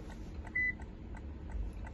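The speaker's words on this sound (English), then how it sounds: "You get one beep" A single short electronic beep from an ADC-2015 emulator key programmer while programming a key for a 2014 Lexus IS250, faint against a steady low background hum.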